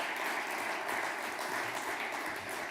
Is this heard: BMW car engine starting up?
no